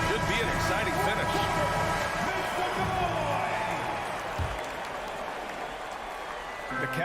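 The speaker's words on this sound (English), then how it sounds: "Please give a big round of applause for your Cavaliers." Arena crowd applause fills an NBA 2K23 basketball game between the Cavaliers and Bulls heading into the fourth quarter, a steady, loud wash of clapping and crowd noise that eases slightly toward the end.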